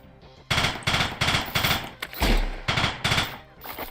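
Gunfire in an in-development shooter video game: a rapid series of sharp, loud shots at a steady rhythm, about eight reports over a few seconds with a heavier thump in the middle.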